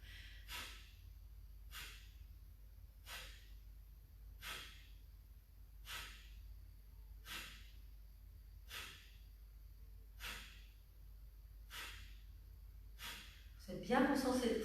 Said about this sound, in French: Bien concentré sur votre ventre, continuez ce Kapalabhati tranquille